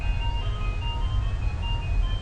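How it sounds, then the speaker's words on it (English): A ghostly, old-fashioned ice cream truck approaches, its thin looping chime melody drifting over a heavy, steady low engine rumble, fairly loud and alone. "I turn my eyes to fall upon the approaching truck"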